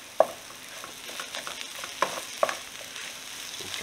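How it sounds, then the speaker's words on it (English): A spoon scrapes and clinks through a stuffed potato mixture, a few soft, sparse knocks against the bowl, quiet and close with no talking. "Mix that around, get it a stir."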